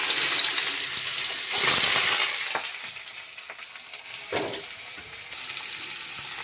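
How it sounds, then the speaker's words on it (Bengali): Potatoes and bitter gourd sizzle in smoking-hot oil in a home kitchen, a loud, continuous hiss of frying with a few sharp spatters and stir scrapes, no voices. "এবারে আমি আলু আর উচ্ছেটা দিয়ে দেবো।"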